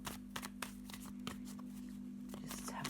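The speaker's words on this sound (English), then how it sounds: "let me just have a little shuffle of the black and white Faulkner deck." A black and white Faulkner tarot deck being shuffled by hand, quiet papery flicks and soft riffling clicks in irregular bursts, close and faint over a steady electrical hum, with no talking.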